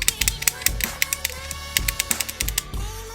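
Antsy Labs Fidget Cube buttons clicking in quick, irregular sharp taps, close and fairly loud, with faint background noise between presses.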